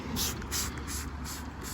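Cleaner is sprayed into caravan window seals in several quick, close hissing bursts with no one talking.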